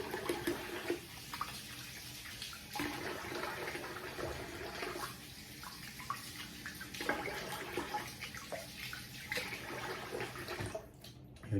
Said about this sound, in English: rinse the face here and we'll get done.